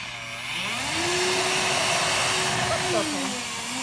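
A Hoover Impulse cordless vacuum cleaner's motor ramps up to maximum suction, then holds a loud, steady whirring whine close by before dipping slightly near the end.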